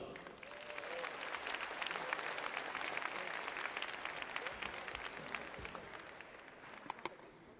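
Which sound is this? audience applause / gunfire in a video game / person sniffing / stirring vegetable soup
audience applause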